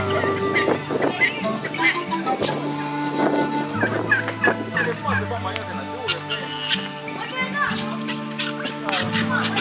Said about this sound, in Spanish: Estas son las gallinetas de otra especie, de otro color.